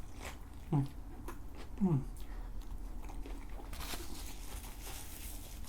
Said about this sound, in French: là, je vais goûter